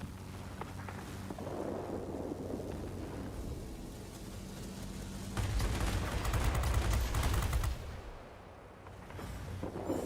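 A Bf 109 K-6 fighter fires its machine guns in World of Warplanes, rapid dense bursts over the roaring engine drone, with one heavy sustained burst midway, loud and close.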